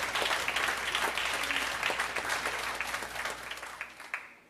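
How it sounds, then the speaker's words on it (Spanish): Congregation applauding during a church sermon, a brisk spread of clapping from many people that fades toward the end, with only faint voices. "Sí, aplaudamos al Señor."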